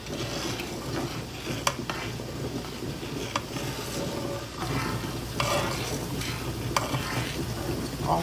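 Muscadine jelly boils in a pot while being stirred, a steady close bubbling and sizzling wash broken by scraping spoon strokes along the pot that continues without pause throughout.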